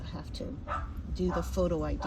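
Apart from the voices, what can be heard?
neighbor's dog barking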